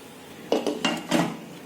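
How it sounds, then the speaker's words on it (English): A lid is set down on a pan of egg fried rice, giving three or four quick metallic clanks and clatters in close succession, loud and near, with no talk. "Now I will close the lid and keep it to simmer"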